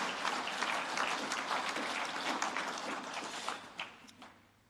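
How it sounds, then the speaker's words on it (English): Audience applause for the Fieldays Innovation Award finalists at an awards evening, a crowd clapping steadily with a few distinct claps standing out before it dies away. "What about a round of applause for all 5 of them?"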